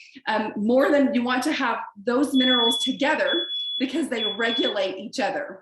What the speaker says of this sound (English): Okay, so that's my smoke alarm going off.